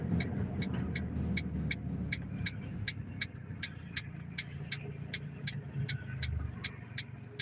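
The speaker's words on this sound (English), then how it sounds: "And I'm just out here rolling around in my 150 horsepower station wagon." A 150 horsepower station wagon driving along, a low engine and road rumble heard from inside the cabin, with a steady regular ticking running over it throughout.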